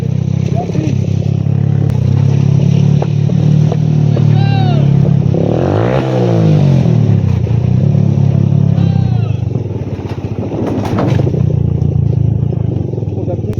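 Motorcycles ride off-road near Borith Lake, engines droning loudly and continuously with rising and falling revs, a close pass around the middle, and people talking over the noise.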